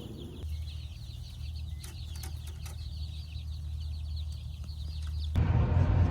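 Guinea fowl call among a flock of young pastured laying hens, with repeated harsh, raspy cries over a steady low background rumble.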